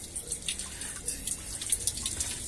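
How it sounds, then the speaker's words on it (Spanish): A small waterfall trickles inside a planted aquarium, giving a continuous light splashing and dripping with quick bright spatters over a low watery murmur, close and moderately quiet. "Que hay una pequeña caída de agua."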